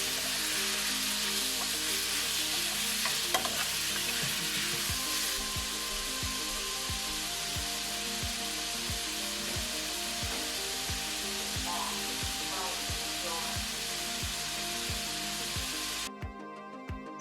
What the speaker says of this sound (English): when your oil warms up, you can go ahead and add your meat like I did. And I'm just gonna let it fry and mix in while it's frying.